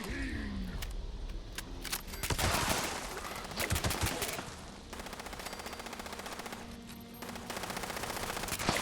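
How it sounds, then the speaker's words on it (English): In the video game Fallout 76, an enemy fires at something off to the side in bursts of rapid automatic gunfire mixed with single shots and clatter. The shots are fairly close and keep up across the whole stretch. "What's this guy shooting at? He's shooting over there for some reason."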